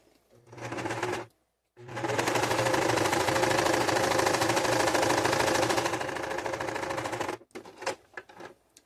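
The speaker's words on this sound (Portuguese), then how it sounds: "vamos fazer o retrocesso aqui no começo do tecido, do nosso tule" Sewing machine backstitching at the start of a piece of tulle fabric: a short stitching burst, a brief pause, then a long steady rapid whir of stitches lasting several seconds, ending in a few clicks and taps, close and loud.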